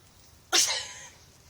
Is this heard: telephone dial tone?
no